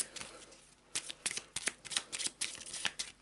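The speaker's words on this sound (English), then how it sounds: "So tomb effects, let's give them a shuffle." A deck of tomb effect cards for a board game being shuffled, a series of quick crisp riffling bursts in irregular rhythm, close and fairly quiet with no talking.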